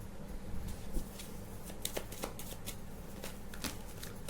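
Tarot cards being shuffled by hand, soft papery riffles and flicks that come in short bursts over a quiet room background, faint and close with no talking.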